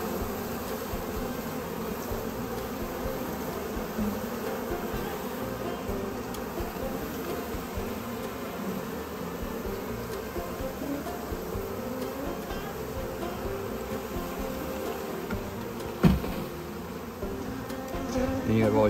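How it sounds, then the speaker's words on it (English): A big pile of honey bees buzzes in a continuous, even drone, fairly close but soft, with no voices and only a brief knock near the end. "you see a big old pile of bees."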